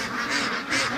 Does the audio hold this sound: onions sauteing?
no